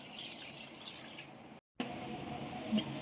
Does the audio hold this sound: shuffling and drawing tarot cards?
no